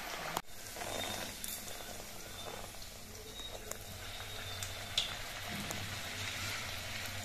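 Stuffed pumpkin kachuri deep-fry in hot oil with a steady, soft, hissing sizzle and a couple of faint pops, and no one talks.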